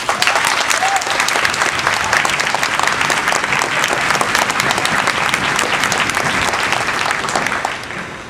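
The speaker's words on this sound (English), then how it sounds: "Let's give them a round of applause." A concert audience gives sustained applause to band performers at a first band concert, a thick, uniform wash of clapping that holds steady and then eases off at the close.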